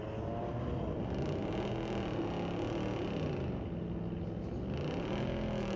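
A 1985 Chevrolet Blazer with a 383 stroker engine at a street-legal drag strip, heard as a faint, distant engine drone holding steady, with the truck reportedly having some trouble.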